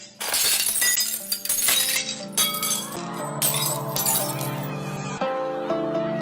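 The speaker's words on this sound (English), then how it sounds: "all the energy in the sound of the singer's voice is transferred to the glass, and it shatters" A glass shattered by a singer's voice: loud crashing breakage with bright tinkling shards, layered over sustained sung tones that hold and shift across the clip.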